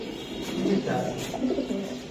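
A racing pigeon coos in soft, low, rolling notes close by, with a few bubbling calls over a steady background hum.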